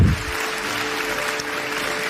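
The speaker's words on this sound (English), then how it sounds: "She does deserve a round of applause now, doesn't she?" Steady applause from a debate audience, a dense wash of clapping that holds at an even level for about two seconds.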